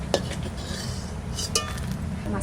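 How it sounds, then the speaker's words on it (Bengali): Dry red chillies fry in mustard oil in a wok, a soft steady sizzle broken by a few sharp metal clinks and scrapes of a stirring utensil, close and fairly quiet. "একটু শুকনো লঙ্কা ভেজে রাখবো।"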